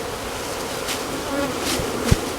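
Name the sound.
bees buzzing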